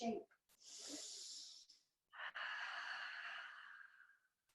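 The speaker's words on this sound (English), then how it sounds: "Take a couple deep breaths in this shape." Slow, deep breaths taken while holding a yoga pose: a long, airy exhale, a short pause, then a second extended breath. Each breath is close and soft and stands alone with no talk.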